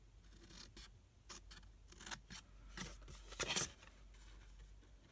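Scissors cut away the corner of a scored cardstock gift bag with a few quick, quiet snips and some light paper rustling, heard close up.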